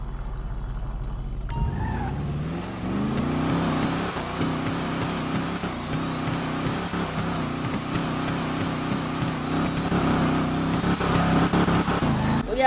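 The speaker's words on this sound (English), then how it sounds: "The car sound is amazing." Vapid Chino muscle car in GTA 5 rumbles with a steady low engine drone after a brief start, holding a throaty idle and cruising tone with small revs, loud and close, with a faint voice at times.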